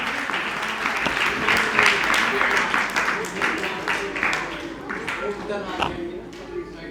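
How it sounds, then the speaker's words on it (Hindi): An audience gives a hearty welcoming round of applause at the opening ceremony of a computer centre. The dense clapping runs steadily for several seconds and fades toward the end, with a voice speaking over it. "तालियों के साथ स्वागत जोरदार"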